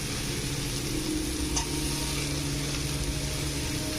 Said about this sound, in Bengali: আলু টালু ভাজা হবে পেঁয়াজটা ওর সাথেও খুব সুন্দরভাবে ভেজে যাবে